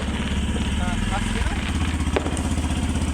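A motorbike engine idles and putters close by with a steady, throbbing rhythm as the rider leaves, while people talk over it.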